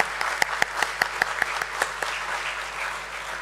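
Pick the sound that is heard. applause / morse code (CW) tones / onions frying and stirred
applause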